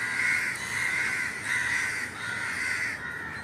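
Crow chicks in a nest cawing in a repeated series of harsh, nasal calls, fairly close and steady with no speech.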